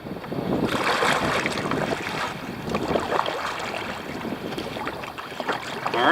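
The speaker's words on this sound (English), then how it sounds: "Now we're going to paddle a few miles up Smith Creek" Kayaks paddling on Smith Creek near Wilmington, with water swishing and splashing against the hulls up close, strokes rising and falling irregularly under steady wind noise on the microphone.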